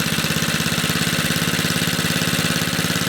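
A small Briggs & Stratton 2hp engine that burns oil runs close by with a rapid, chugging mechanical pulse and a buzzy, vibrating tone, its revs slightly uneven, loud and without any voices.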